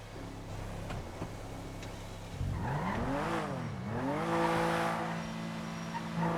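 The Buffalo car in a video game drives with engine revs rising and falling in pitch sweeps, plus tire squeal, the engine growing louder partway through over steady background engine drone.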